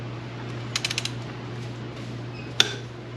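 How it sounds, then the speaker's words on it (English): A torque wrench set to 49 foot-pounds on the axle nut of a 2022 Husqvarna FC350 gives a quick run of ratcheting ticks, then a single sharp click, close up over a steady low hum. "So set your torque wrench to 49."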